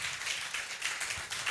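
A church congregation claps together in a short burst of rhythmic, slightly uneven hand claps, moderately distant and fairly faint.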